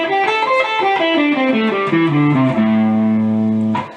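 Electric guitar plays a melodic blues line picking out chord tones, with a distorted, effects-laden tone, single notes stepping downward and ending on a long sustained note before cutting off, loud and alone with no talking.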